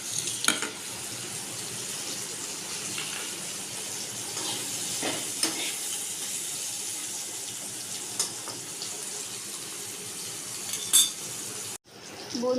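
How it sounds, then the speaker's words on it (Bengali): Pieces of pointed gourd (potol) sizzling in hot oil in a pan, a steady close hiss with occasional spoon scrapes and clinks, and a short cut near the end. "পটলগুলোকে একটু লাল করে ভাজতে হবে।"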